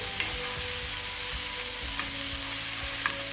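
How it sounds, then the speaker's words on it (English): Noodle stir fry being stirred in a hot pan, a steady close sizzle with scraping utensil strokes repeating every second or so, no voices. "just stirring it up, mixing it around, just making sure all the seasonings get evenly mixed throughout the stir fry"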